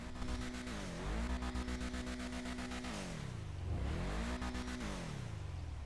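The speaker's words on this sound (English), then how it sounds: "Unfortunately, it is a reused exhaust note." An Ubermacht Sentinel XS4 engine in GTA Online revs up and drops back several times, its pitch sweeping up and down, loud and close with no other sounds.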